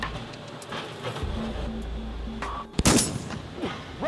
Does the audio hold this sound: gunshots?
yes